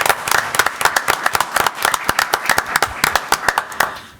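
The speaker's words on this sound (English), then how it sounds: "I'd like to give him a round of applause." A round of applause at a county commission meeting: many hands clapping in dense, steady bursts close to the microphone, carrying on for several seconds with scattered voices mixed in.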